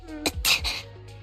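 Character in a video game sneezes, a short breathy burst followed by a second sharper puff, close and alone.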